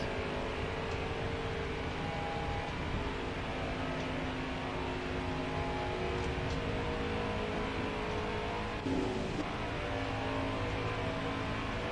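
Racing truck engine in a Daytona truck racing game, a steady droning roar holding high revs for the whole stretch with little change, dense and continuous at moderate level, no voices.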